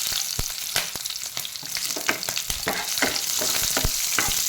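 Green chillies sizzle and crackle in hot oil in a pan for carrot pulao, with sharp irregular pops and a steady hiss, stirred now and then; close and alone, with no talk.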